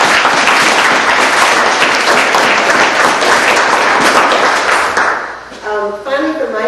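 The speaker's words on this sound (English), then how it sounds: "I'd just like to give them some applause," Audience applause at an institute gathering for new honorary trustees and fellows, dense clapping that dies away near the end as a voice begins speaking.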